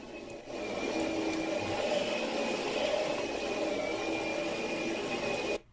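An Oreck XL Platinum upright vacuum cleaner runs at a steady whine and hum after switching on, continuous and fairly loud, then cuts off at the end.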